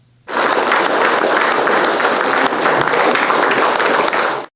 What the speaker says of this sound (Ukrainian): Зал вітав їх стоячи гучними оплесками.